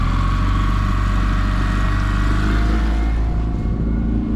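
Outboard engine on a 2021 172 Osprey boat throttling up during a water test, a steady mid-pitched motor drone with rising revs and water rush, continuous and close throughout.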